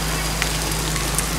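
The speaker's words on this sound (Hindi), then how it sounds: "बहुत तेज़ बारिश हो रही है" Heavy rain in Karachi comes down in big, fat drops, a dense, steady hiss of water hitting surfaces, with a couple of sharper drop impacts standing out from the constant wash.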